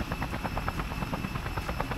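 A helicopter in the Just Cause video game thrums with a steady, rhythmic rotor chop, close and continuous throughout with no voices.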